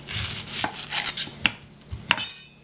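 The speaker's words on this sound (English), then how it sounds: "Now we're going to cut the onion." A knife cuts the top off an onion on a cutting board with a few crisp, close chops and taps. The brief, light strikes are spaced irregularly and there is no talk.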